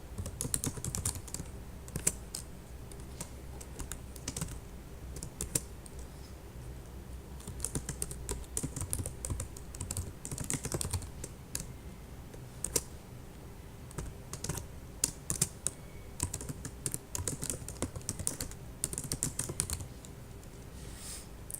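Steady, close typing on a computer keyboard during database work, with quick irregular key clicks and occasional short pauses, carrying on alone with no talk for about twenty seconds.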